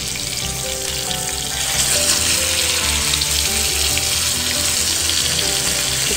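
Pomfret fish coated in masala fries in hot oil, giving a steady, loud, close sizzle that continues unbroken with no talk.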